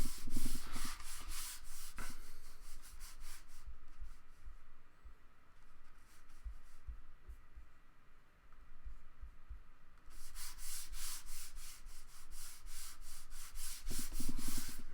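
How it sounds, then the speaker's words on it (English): Paper being rubbed down by hand onto a journal page so it sticks, a close, steady dry rubbing and sanding texture that runs in bursts with a quieter stretch in the middle and no talking. "just rub it until it really sticks"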